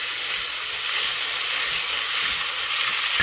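Loud, steady sizzling and hissing as a splash of water hits spiced leftover rice in a hot frying pan, continuous and close throughout.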